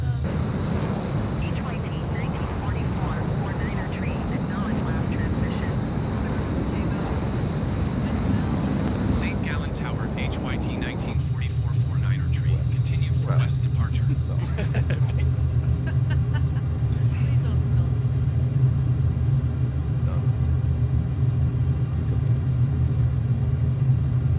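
An aircraft takes off in Microsoft Flight Simulator, a steady loud engine roar that drops midway to a lower, smoother droning hum, with voices talking over it.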